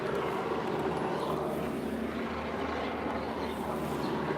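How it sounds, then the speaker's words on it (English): An NYPD helicopter passes over a fire scene, its engine and rotor a steady, continuous drone that stays fairly loud and distant overhead with a little faint background commotion. "I think that's the NYPD helicopter"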